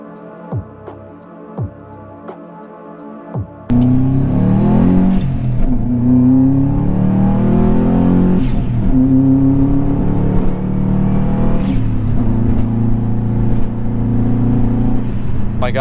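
A Subaru WRX engine, recorded from inside, idles with a few clicks before rising into a loud, sustained growling rev that holds with rhythmic surges throughout.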